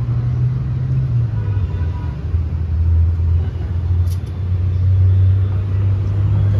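A four-cylinder car engine fitted for LPG with an eight-injector rail runs at a steady idle, giving a loud, continuous low hum with slight swells in level, close by and with no voices.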